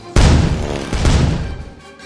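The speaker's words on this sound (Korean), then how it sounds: "들은 비행선을 향해 대포를 쏘았어요." A cartoon cannon fires in a sudden loud boom, and a second blast follows about a second later. Both are close and heavy and fade into a rumbling tail.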